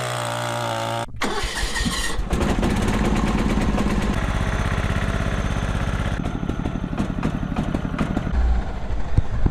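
A 1989 John Deere 185 riding lawn mower engine cranks and starts, then runs steadily close by with a loud, even throbbing idle and no talking.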